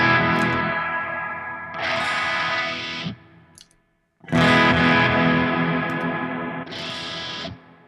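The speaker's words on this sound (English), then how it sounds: "When I switched over to a new preset, the delayed and reverb spill over." Guitar through a Line 6 Helix with delay and reverb, a sustained distorted note swelling and then dying into echoing trails, a brief near-silence, then another loud phrase as a new preset comes in with the tails carrying over.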